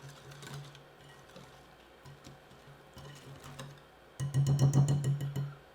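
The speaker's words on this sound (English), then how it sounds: "Give it a good mix." Quick bread batter being mixed by hand with dry ingredients, a spoon scraping and knocking the bowl in a soft repeating rhythm that grows louder and busier in the last second and a half, close by with no talk.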